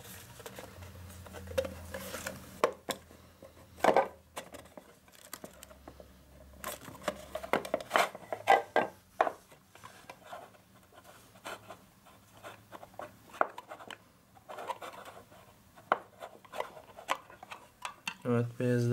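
Unboxing a white Cookoo smartwatch made to work with an iPhone brings scattered close rustles, taps and small plastic clicks of packaging being opened. Quiet talk comes and goes.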